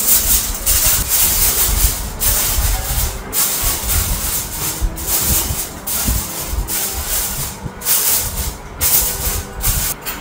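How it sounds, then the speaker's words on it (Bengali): Aluminium foil crinkling and rustling as two layers are pressed over a pot of Pakistani Kabuli pulao, a steady close, dense rubbing texture with brief pauses. "এবার আমি দিব ফয়েল পেপার, 2টা লেয়ার দিব আমি, 2টা লেয়ারে ফয়েল পেপার দিব"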